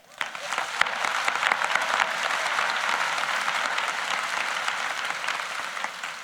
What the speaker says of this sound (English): That deserves applause, right?